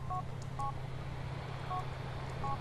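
Phone keypad beeps in the video game GTA IV, with four short paired tones spaced across the moment over a low steady engine-like hum of driving, with no talking.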